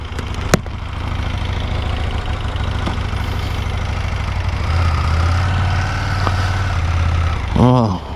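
A warmed-up KTM 890 Duke R motorcycle engine idles steadily up close with a low, even rumble, rising slightly near the end before a short burst of speech.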